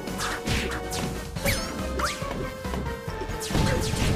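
Sharp zapping laser blasts in the game Line Ranger fire in quick bursts with descending whistling tones, layered over crashing impacts and a busy electronic game soundtrack.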